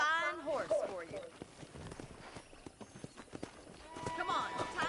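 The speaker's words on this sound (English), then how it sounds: "I picked out a fine horse for you." Horse hooves clip-clop in the Western video game Red Dead Redemption, a steady walking rhythm heard under continuous character dialogue and background score.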